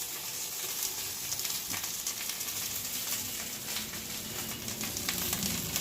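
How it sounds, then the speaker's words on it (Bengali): Foil-wrapped bhetki fish paturi sizzles on a hot griddle with an even, crackling hiss that runs continuously, touched by small spatters and pops. "এবার যেগুলো আমি ফয়েল পেপারে মুড়েছিলাম সেইগুলো আমি এবার চাটুর মধ্যে দিচ্ছি।"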